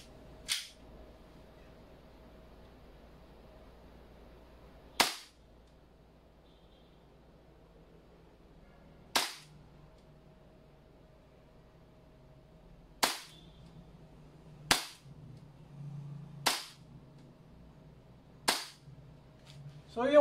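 Gas blowback airsoft pistol, a Jag Precision Taran Tactical Pit Viper, fired at a 5-meter target: about eight sharp, loud cracks at uneven intervals over a steady low background hum, with no talking.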